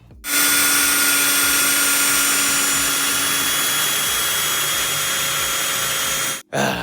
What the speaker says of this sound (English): it is got a little drill bit that starts the hole, the pilot hole for you